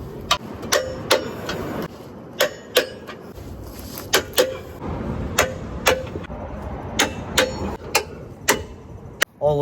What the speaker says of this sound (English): My adjustable clicker torque wrench by Tecton is now adjusted to 55 foot-pounds